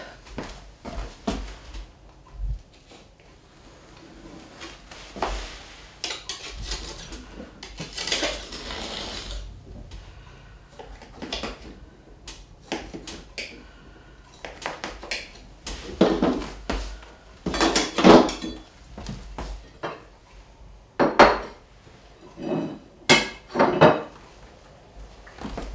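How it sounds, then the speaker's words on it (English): A knife cuts through cornbread on a plate in a home country kitchen, giving a long series of irregular scraping and tapping strokes, some sharp and loud, with quieter pauses between bursts. "We'll cut our cornbread."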